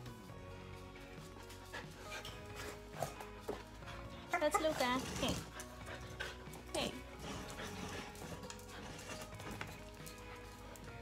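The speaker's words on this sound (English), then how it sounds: "I'm gonna go get my dog and her cousin and let them say hi" Two dogs, a household dog and her visiting cousin, move about close by with whimpers and shuffling, under a person's voice greeting them.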